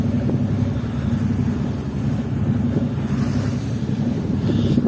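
Waves slosh against a boat crossing the water toward Karaköy in Istanbul at sunset, a loud steady rumbling wash buried under heavy wind buffeting the microphone.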